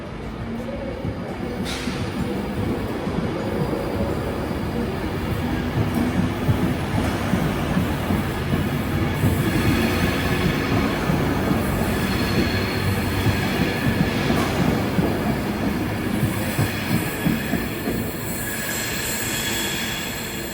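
Passenger train in motion on a ScotRail and Avanti West Coast route toward London Euston via the West Midlands, a steady loud rumble of wheels on rail with faint squealing, continuous for the whole stretch with no talk.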